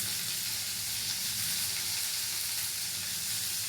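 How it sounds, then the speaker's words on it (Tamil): Ivy gourd sautéing in a hot pan for a Tamil-style kovaikai poriyal, giving a steady, close, continuous sizzle with crackling hiss throughout and no talking. "நல்லா ஒரு வதக்கி விட்டுட்டுங்க"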